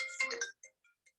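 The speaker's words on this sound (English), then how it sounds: "That was my phone. I forgot to switch it off today." A mobile phone ringtone going off during a talk, a short bright electronic chime followed by a few fainter repeating tones, close and alone.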